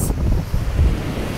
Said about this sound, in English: you can see here how the waves are lapping against this little beach